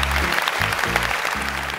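Brief burst of studio audience clapping on a Vietnamese game show, steady and dense, with a low musical tone pulsing underneath.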